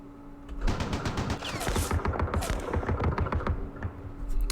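Sustained bursts of gunfire crackle steadily at moderate loudness in Campaign Series Vietnam, a Dien Bien Phu battle scenario, the volleys running for a few seconds without speech.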